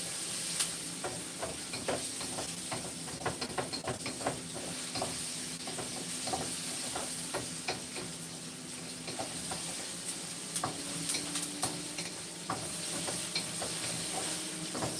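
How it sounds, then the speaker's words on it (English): Vegetables sautéing in a hot wok for a salmon and whole-grain noodle dish, with a steady close sizzle and frequent sharp clicks and scrapes of stirring throughout. "we're just gonna saute this in the wok"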